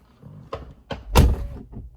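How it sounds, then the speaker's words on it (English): A Tesla Model 3 Performance car door is shut at normal force, giving a solid, deep thunk with a few lighter clicks and latch sounds around it, close and alone. "We'll start with closing the door."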